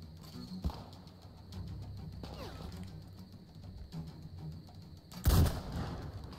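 Enemy gunfire in the video game Metro Exodus, a few sharp reports over a low rumbling game soundscape, with one loud close blast near the end.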